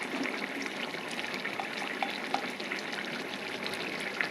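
Potato and cauliflower curry frying in a pan with ghee and garam masala just stirred in, giving a steady, soft sizzle with occasional small pops and crackles throughout, no voices.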